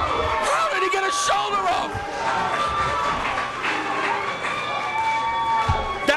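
A wrestling crowd in Union City reacting to a near-fall, with dense, loud shouting, whooping and cheering throughout while individual voices call out over the din.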